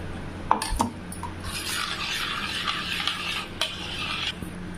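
A spoon scrapes and stirs through thick rava payasam, a semolina sweet pudding with cashews, in a pan, with occasional metallic clinks against the rim.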